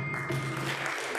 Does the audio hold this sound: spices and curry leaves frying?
no